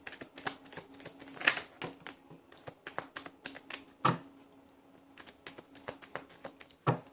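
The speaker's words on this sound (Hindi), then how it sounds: "This is my last shuffle." Tarot cards being shuffled by hand; a quiet, close series of soft flicks and riffling taps in irregular bursts, with a few sharper slaps of the deck.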